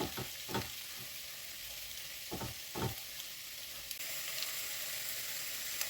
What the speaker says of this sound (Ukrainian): Смажимо на великому вогні.